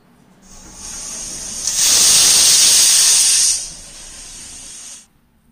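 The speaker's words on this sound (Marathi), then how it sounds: "कुकर लावून आपण त्याच्या 3 शिट्ट्या काढून घेऊया." Steam hisses steadily from a pressure cooker holding dal with turmeric, asafoetida and oil, building to a loud, bright whistling burst in the middle before easing back to a softer hiss and cutting off.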